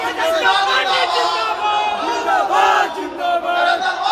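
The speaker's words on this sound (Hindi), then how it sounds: "पंडाल के अंदर रैली में नारेबाजी करने वाले कार्यकर्ता" Party workers inside a rally pandal in Gaya, Bihar, shout slogans in loud, rhythmic bursts of massed voices, with overlapping cries and crowd chatter filling every moment.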